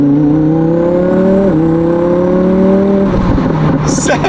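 Audi R8 with 55K miles accelerating hard on the road: a loud engine note climbs steadily through the gears, with a quick dip at one shift and a second shift near the end.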